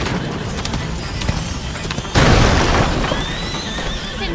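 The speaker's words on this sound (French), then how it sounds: "Regardez! Le cheval!" A horse whinnies in the game A Plague Tale: Innocence, with a loud, close neigh over the tense din of the scene, then a sudden heavy burst of crashing commotion midway that carries on under it.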